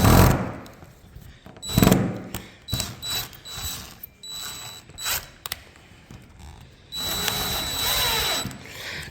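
A power drill drives screws in several short bursts with pauses between, a near whirring and ratcheting, and a longer run at the end.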